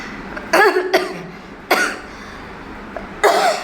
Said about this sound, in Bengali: এডিট করতে করতে এত কাশি হচ্ছে